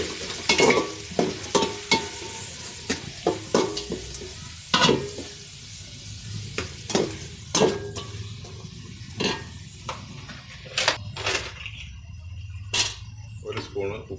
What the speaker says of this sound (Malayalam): കരിവേപ്പില ഇട്ട് കൊടുക്കുക